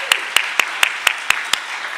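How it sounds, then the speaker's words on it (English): Symposium audience applause, a burst of sharp, evenly spaced claps ringing out loud and close for about two seconds. "Can we give Helen a round of applause?"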